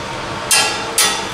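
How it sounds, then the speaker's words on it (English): A Halloween prop swings side to side and strikes a steel piece twice, each hit a bright metallic clank about half a second apart, standing out over a low background hum. "hitting this steel, just like that"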